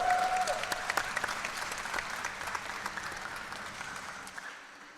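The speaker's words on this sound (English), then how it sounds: "You're going to hear the crowd erupt." A crowd at a pool match cheers and applauds, dense clapping loud at first then gradually thinning and fading out, with a brief tone near the start.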